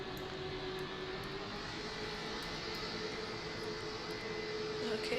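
An airliner in Velocity Flight Simulator rolls out after landing, its steady engine roar continuous and fairly loud, swelling slightly toward the end.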